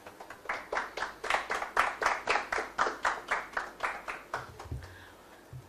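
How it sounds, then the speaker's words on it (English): An audience at a mentorship program event claps to welcome a speaker, with a rhythmic round of applause of about twenty fairly even, close claps that gradually fade out near the end. "with a round of applause, let's welcome Madam Elikem Kome"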